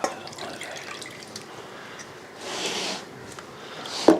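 Excess water drains from water-dipped coated chicken resting on a strainer, a faint steady trickle with soft drips and one crisp splash near the end.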